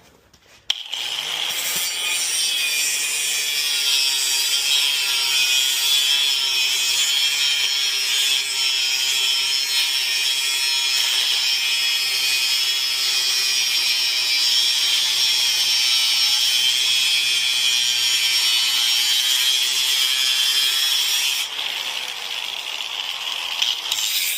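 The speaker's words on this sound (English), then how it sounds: "Got this other bracket. I'm getting ready to cut that section off." A steering column bracket has about a quarter inch cut off with a power tool, giving a steady, loud, high-pitched cutting whine that runs unbroken for about twenty seconds, then stops.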